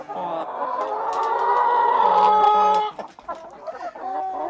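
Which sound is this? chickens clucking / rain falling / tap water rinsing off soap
chickens clucking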